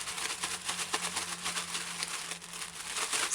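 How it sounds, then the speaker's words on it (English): A very thin plastic bag holding chicken parts crinkles and rustles continuously up close, a dense crackly texture with no talking. "The chicken bone just burst this very thin plastic bag that I'm using."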